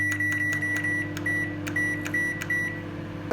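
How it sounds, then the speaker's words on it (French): A microwave oven runs with a steady low hum while heating semolina for couscous royale, and a series of sharp, regular electronic beeps sounds repeatedly over the drone. "on va le mettre dans le micro-ondes pour la première partie"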